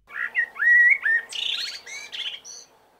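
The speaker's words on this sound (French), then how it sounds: "des chants d'oiseaux et de nature" Birds sing and chirp in quick varied phrases, bright whistles and trills close by, with a faint outdoor background.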